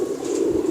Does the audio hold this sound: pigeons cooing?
yes